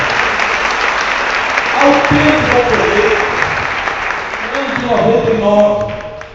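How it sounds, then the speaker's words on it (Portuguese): A church congregation applauding during a service, a sustained, loud wall of clapping with a voice speaking over it throughout. "Então aplauda o Senhor Jesus."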